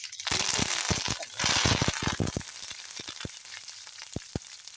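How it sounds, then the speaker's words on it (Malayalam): Mustard seeds and curry leaves sizzle in hot oil, with a loud frying hiss and a rapid scatter of sharp crackling pops that thin out to sparse, spaced snaps as the seeds finish spluttering. "കടുക്ക് ചെറുപറ ചെറുപറ പൊട്ടട്ടെ"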